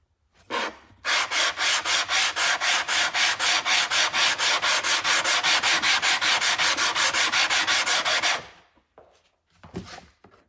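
Sandpaper of 120 grit rubs back and forth on a Samson block plane in fast, even, rhythmic strokes for about seven seconds, loud and close, followed by a few brief scrapes.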